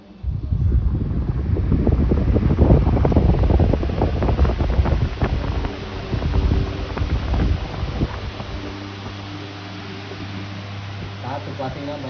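A freshly serviced table fan runs at speed setting 3 at home, giving a loud, steady, breathy whoosh of moving air that eases slightly toward the end, with a low hum showing later.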